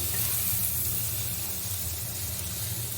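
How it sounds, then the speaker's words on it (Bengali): Ground turmeric, chili, coriander and cumin sizzle in oil as they are mixed in a pan for a Bengali fish-head dish, a close, even hiss that holds steady with no voices. "এবার ভালো করে মিক্স করছি"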